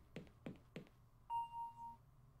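A doorbell rings once with a steady electronic tone, clear and fairly loud, right after three short sharp knocks or thumps in a quiet room.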